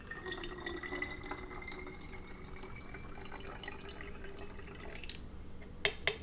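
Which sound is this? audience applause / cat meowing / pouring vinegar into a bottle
pouring vinegar into a bottle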